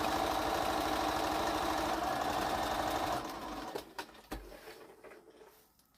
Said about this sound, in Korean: 제가 쓰는 미싱 뭔지 물어보신 건가요